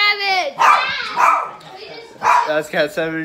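A dog barks and yelps a few times nearby, its sharp calls mixed in with someone talking over the top.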